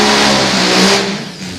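A three-cylinder Top Fuel drag racing motorcycle engine roars loud and close at a drag strip, a dense, raw blast that swells briefly, then drops away.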